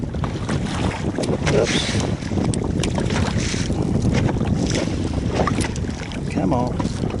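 Strong wind roars steadily over a small boat on open water, buffeting the microphone throughout, with a brief spoken exclamation partway through.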